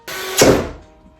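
A pantry cabinet door swung shut, a solid wooden thunk landing mid-way after a short rustle, close and fairly loud, with a brief decay afterward and no talking.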